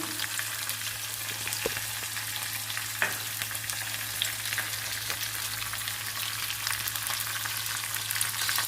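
Green chillies and curry leaves frying in hot oil for a tempering, a steady close sizzle with occasional crackles and pops, no speech.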